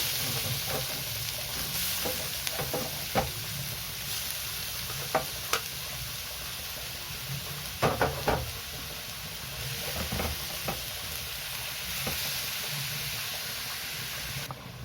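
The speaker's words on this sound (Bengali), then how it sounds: "এবার আমি যে গাজরগুলো গ্রেট করে রেখেছিলাম সেইগুলো কড়াইতে দিয়ে দেব।" Grated carrots stir-fried in a kadai for carrot halwa, a steady soft sizzle broken by scraping spatula strokes and clinks against the pan, with no speech.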